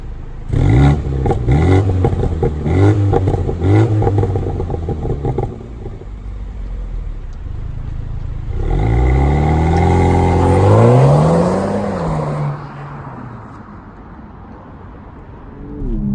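A 2020 BMW M135i xDrive engine revs and climbs through gears, pitch rising and dropping with each shift, then a strong surge of acceleration before settling to a lower hum.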